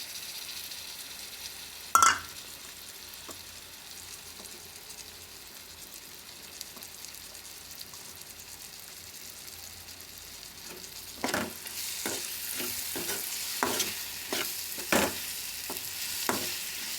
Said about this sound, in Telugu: చూసారా, ఇలా ఫ్రై అయ్యాక ఇప్పుడు ప్రాన్స్ వేసుకుందాం.